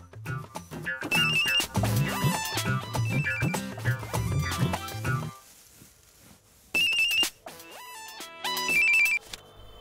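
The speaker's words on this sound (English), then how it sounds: "Hey, you picked up the phone in 5 rings." A mobile phone's melodic ringtone plays loud and close in a dubbed movie scene, with bursts of tune, a brief quiet gap, then the ringing resumes.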